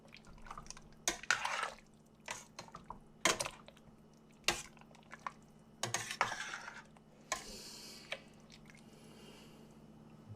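Seasoning being mixed into an oxtail mixture, with wet squishing and scattered clinks of a utensil against the bowl in irregular bursts, close and moderately loud, with no voices.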